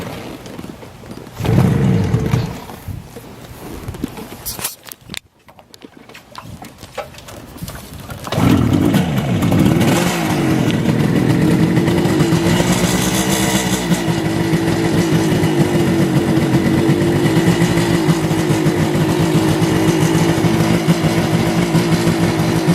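A 1975 Kawasaki 500 H1 two-stroke motorcycle engine coughs, then catches and settles into a loud, steady idle with rising and falling revs, close to the microphone, after a brief quiet pause.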